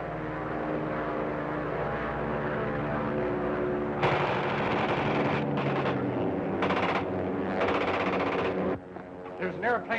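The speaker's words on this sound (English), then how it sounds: "Plane with a machine gun attacking us" A droning propeller plane hums steadily, then bursts of rapid machine-gun fire from the plane rattle over it in several loud stretches.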